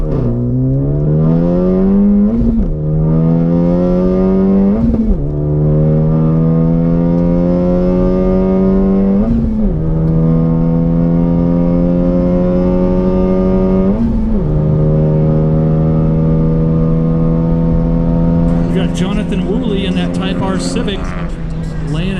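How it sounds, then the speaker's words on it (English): A Honda Civic Type-R racing a Mitsubishi Evo 8 on a half-mile track, one engine loud and close, climbing through gear after gear with a brief dip at each shift, with a second tone entering near the end. "Civic laying it down up against that Mitsubishi Evo"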